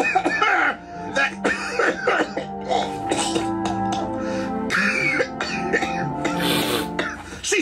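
A voice imitates coughing and a throaty gurgle in a Cyanide & Happiness cartoon, with a few rough coughs over a steady musical backdrop.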